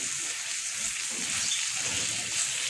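Alexandrian-style liver with garlic fries in a pan, a dense, continuous sizzling hiss like steady rain, close and even throughout, with no voices.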